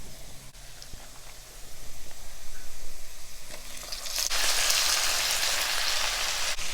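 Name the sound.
eggplant sautéing in hot oil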